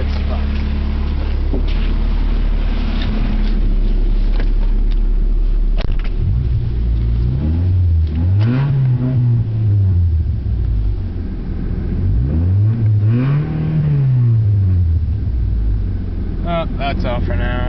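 Honda Accord with no muffler or catalytic converter, a harsh, loud exhaust rumble that twice swells into long revs rising and falling, with a voice talking over the engine.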